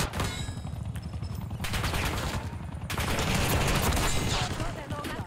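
Dragon's Breath incendiary shotgun fire from an ASG-89 build in Black Ops 6 multiplayer, dense bursts of gunfire with a crackling roar that swells louder in the second half, layered over game effects.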